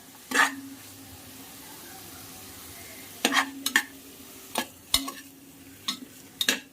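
Vegetables for vegetable rice cooking in a pot, with a steady low sizzle broken by sharp scraping stirs of a utensil against the pot at irregular intervals, close and fairly quiet, with no voices.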